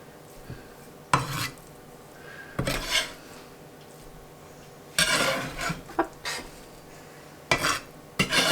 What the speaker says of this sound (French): on vient du coup les ajouter à la feta et on va venir les mélanger